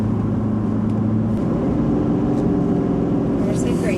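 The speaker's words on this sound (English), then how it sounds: "There's the grade shift." Engine of a 2015 Ford F350 King Ranch pickup drones steadily as it downshifts on a grade, the low tone stepping up in pitch partway through, with faint talking over the cabin rumble.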